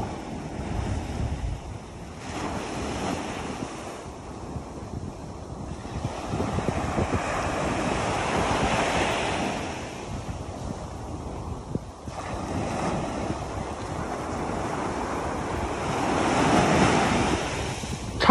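Ocean waves washing onto a beach on a cool, windy seashore, a continuous rolling surf with slow swells of loudness and steady wind rumble on the microphone, no voices.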